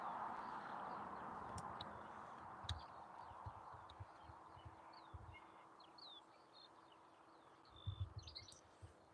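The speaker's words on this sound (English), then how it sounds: "Lovely sound of the birds." Birds chirp and call in scattered bursts over a steady broadband background roar at East Midlands Airport, with occasional low thumps; the birdsong is fairly faint and distant.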